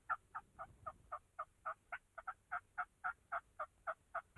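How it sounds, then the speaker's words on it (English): A wild turkey gobbler calls during a spring hunt in Tennessee, giving a fast, steady run of about fifteen evenly spaced gobbling notes at moderate distance, with no voices over it. "Earlene wants a big gobbler anyway"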